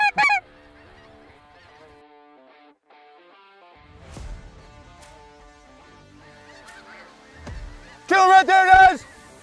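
Snow geese honk in sharp nasal calls, a quick burst at the start and a louder cluster near the end, out in the field during a duck hunt, with voices between the calls.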